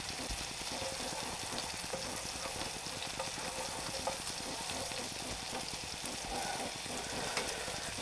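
Corn frying in a pan and being stirred, a steady close sizzle with soft scraping and stirring sounds throughout, no voices.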